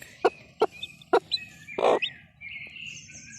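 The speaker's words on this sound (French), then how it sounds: "On peut déjà entendre les poussins." Newly hatched chicks peep from under a brooding hen, with a few sharp, separate cheeps at close range followed by a brief soft clucking murmur. The background is quiet.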